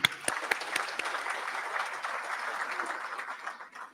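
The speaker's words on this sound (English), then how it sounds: "Round of applause, please." Audience applause for the Pretoria Muslim Youth Brigade at a talk in Pretoria, South Africa: a dense, steady wash of many hands clapping across the whole stretch, sharp at the start and tapering slightly near the end.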